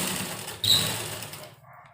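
A sewing machine stitches pleats into a pajama waistband belt in one short whirring run that stops abruptly and fades into quiet.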